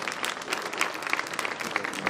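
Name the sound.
audience applause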